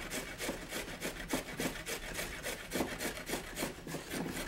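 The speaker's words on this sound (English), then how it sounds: "We're just gonna grate some carrots." Carrots are grated by hand for a carrot cake, with a steady, rhythmic rasping of quick back-and-forth strokes, close and fairly loud, roughly three per second, with no talking.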